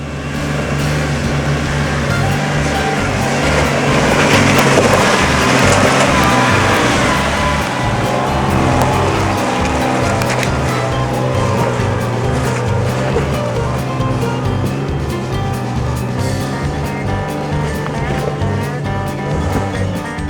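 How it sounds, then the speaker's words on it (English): A Toyota Prado 4WD with a petrol V6 engine climbs a steep forest track, its engine droning loud and steady under load with constant rumbling tyre and body noise throughout, no break in the effort. "The Prado's coming up a lot easier than what the Bravo did, mainly because it's a heavier vehicle and also it's got a V6 engine in it"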